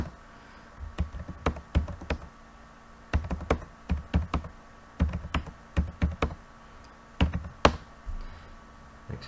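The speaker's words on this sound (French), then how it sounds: "Je tape des chiffres au hasard." Numbers are typed at random on a computer keyboard in a spreadsheet, heard as close, crisp key taps falling in quick irregular bursts separated by short pauses.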